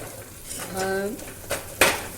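A spoon scrapes and clinks around a cooking pot as garam masala is stirred in for sambar, a few short metallic knocks and scrapes close by, with a brief hum of a voice partway through.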